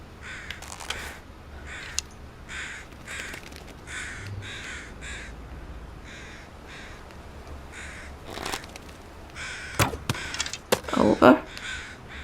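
Crows cawing repeatedly in The Long Dark, the survival game's quiet wilderness, with rhythmic harsh calls through the first seconds and a louder burst of caws near the end.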